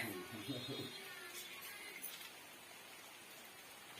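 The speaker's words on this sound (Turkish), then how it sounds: "Yağmur da başladı." Steady, soft hiss of rain falling on surfaces in a village, with a few murmured voices near the start.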